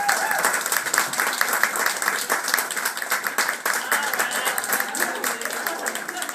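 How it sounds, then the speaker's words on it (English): An awards-ceremony audience clapping hard, dense and continuous applause filling the room at steady strength throughout. "I'd really like us to all clap really hard for my very understanding,"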